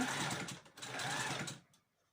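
A sewing machine stitching a face mask whirs in two steady bursts with a short pause between, close and fairly quiet, stopping near the end.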